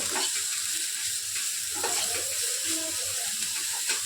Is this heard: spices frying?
yes